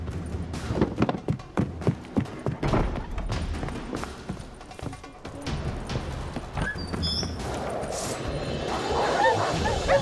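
Dogs barking in The Witcher 3 video game, a burst of sharp barks and yips in quick succession that gives way to hooves and busy background noise, with voices mixed in.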